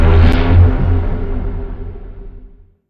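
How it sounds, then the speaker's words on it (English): A deep transition whoosh from Devastator Breakout sounds loudly from the start, its low rumbling body swelling briefly before fading away smoothly into silence within about three seconds. "So I'm using these whooshes,"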